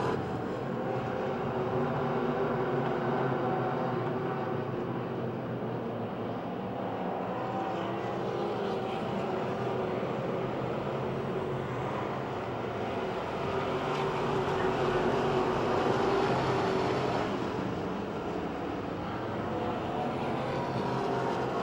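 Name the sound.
race cars at Pennsylvania Motor Speedway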